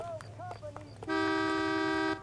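Car horn in the L.A. Noire video game: a long, loud, steady honk sounds for about a second after scattered tonal game sounds, with voices heard earlier.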